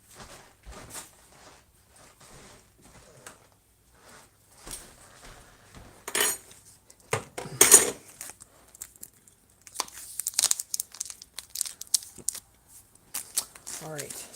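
Block of Monterey Jack jalapeno cheese shredded on a grater in a home kitchen, with scattered scraping and crinkling bursts growing denser and louder near the end, alongside clinks of kitchenware.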